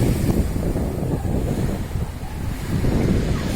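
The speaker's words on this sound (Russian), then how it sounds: "Кто далеко от моря, послушайте шум моря." Sea surf washes onto a beach at Krasny Shtorm in Sochi, a steady broadband roar of waves mixed with gusty wind buffeting the microphone, continuous and fairly loud with no voices.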